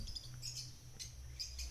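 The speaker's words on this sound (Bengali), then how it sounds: "এখানে অনেক পাখি আছে" Several caged birds at a bird seller chirp and squawk in short bursts close by, with a faint steady hum in the background.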